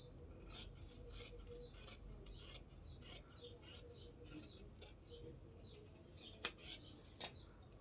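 Scissors cutting blouse fabric, quiet repeated rasping snips and rubbing of cloth in an irregular rhythm, close by, with a couple of sharper clicks near the end.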